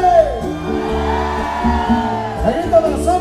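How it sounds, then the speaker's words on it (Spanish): A crowd of women in an outdoor audience at a live folk music show in a garden plaza in Mérida, Yucatán, shouts and whoops loudly together in sustained, wavering cries. "¡El grito de las mujeres!"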